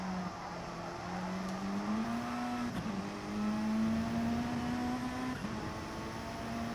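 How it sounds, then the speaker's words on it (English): A Mitsubishi race car engine in an endurance racing series, a steady droning tone that climbs gradually in pitch as the car accelerates, with a short dip midway, sustained and fairly loud. "Apparently, this car makes some glorious noises."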